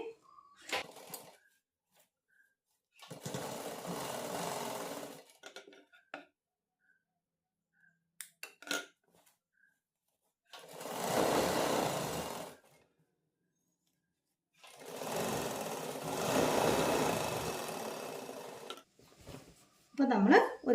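A sewing machine stitches the side slits and seams of a pencil pant, running in three long steady bursts of several seconds each, separated by quiet pauses and short clicks of handling the fabric.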